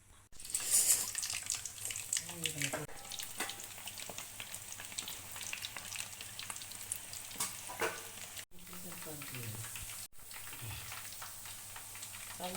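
Urad dal murukku fry in hot oil with a continuous close sizzle, joined by occasional soft clinks and stirring scrapes from the pan.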